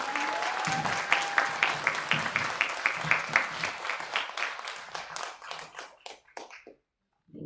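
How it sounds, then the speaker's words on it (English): Applause from a crowd at a literary magazine release party, starting dense and gradually thinning into fewer, distinct claps before fading out near the end. "Can we get a round of applause for all of our contributors?"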